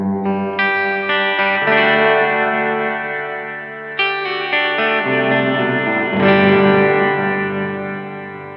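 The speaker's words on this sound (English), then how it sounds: "you can get very kind of spacey and very ambient if you really crank the decay and the pre-delay" Effected synth or guitar chords washed in long, spacey ambient reverb with a cranked decay and pre-delay, sustained, pad-like tails blurring one chord change into the next, loud and alone with no voices.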